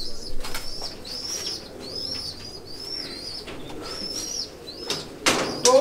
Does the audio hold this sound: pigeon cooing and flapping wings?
yes